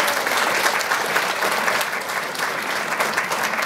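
Steady, dense applause from a television studio audience on a Czech entertainment show, many hands clapping continuously at an even, fairly loud level with no break across the whole stretch.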